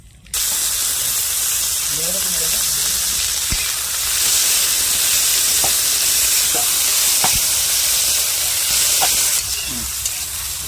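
Onion, green chilli and tomato frying in oil tempered with bay leaf and whole garam masala, a continuous loud close sizzle with occasional stirring clicks while a voice speaks briefly over it.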